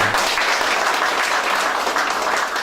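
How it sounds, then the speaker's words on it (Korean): A crowd gives dense, continuous applause at an office opening ceremony for a city council candidate. The clapping is close and loud, holds steady throughout and has no voices over it. "힘찬 박수 한번 부탁드리겠습니다"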